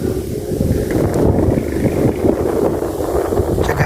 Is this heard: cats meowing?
no